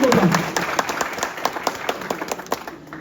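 Audience applause at an airport welcome for a former senator, with many hands clapping in an irregular close patter that thins and fades out after a few seconds, with a voice heard briefly near the start.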